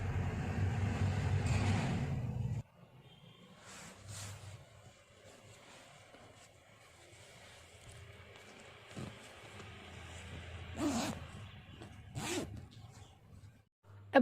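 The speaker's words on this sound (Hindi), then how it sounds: "इसका हम जिप लॉक करते हैं" A zipper is drawn shut on a handmade ladies' purse, giving a couple of short, quiet rasping zips against a low background hum.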